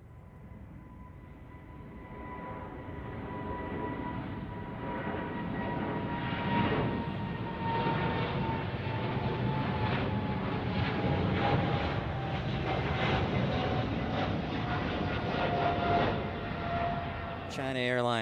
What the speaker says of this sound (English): content like this 777 from EVA Air Cargo taking off